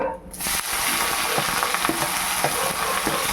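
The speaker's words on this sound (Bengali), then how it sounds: "এবার এই তেলের মধ্যে আমাকে এই পেঁয়াজ কুচি ছেড়ে দিতে হবে।" Chopped onions drop into hot oil for street-style biryani and start a loud, steady sizzle, with light stirring clinks over the frying and no one speaking.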